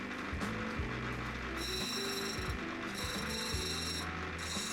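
Rough opal held against a spinning grinding wheel as its edges are gently rounded, giving a steady close grinding hum with faint rubbing scrapes and occasional high whines over a constant motor drone.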